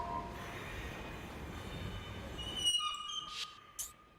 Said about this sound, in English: Let's exit to make sure the train's still going east.